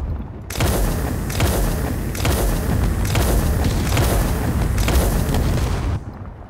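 Heavy gunfire in Space Engineers, a dense run of loud booming shots in rapid bursts with short gaps, close and sustained for several seconds before cutting off.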